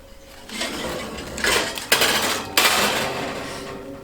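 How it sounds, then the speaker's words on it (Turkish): A metal cooking-pot lid clatters and clanks while a whole-wheat sourdough loaf bakes, with a few sharp close metallic knocks and scrapes over a couple of seconds. "tencerenin kapağını alalım"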